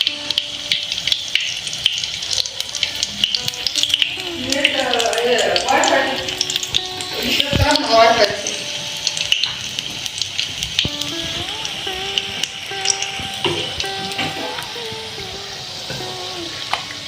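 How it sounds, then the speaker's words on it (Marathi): Spinach fritters, leaves dipped in flour batter, deep frying in very hot oil in a kadai: a steady close sizzle and crackle throughout, swelling as the battered leaves go in, with a voice talking over it. "माझी मम्मी आता पालकला पिठामध्ये डीप करून कढईमध्ये"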